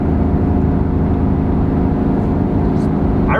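A 2018 Chevrolet Silverado engine holds about 3,200 rpm at 64 mph while towing uphill over Fancy Gap, a loud, steady low cabin drone with a faint voice underneath.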